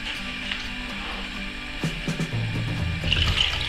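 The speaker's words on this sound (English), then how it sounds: "Just go ahead and add water like so." Water pours from a tap or container into a pot of boiling meat, a quiet running splash with some clattering in the middle and a brief brighter trickle near the end.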